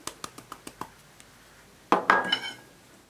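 Kitchen utensil knocking against a mixing bowl while chocolate cake batter with eggs is mixed, a series of six sharp, evenly spaced taps, then a louder cluster of clattering, clinking strikes that fades out.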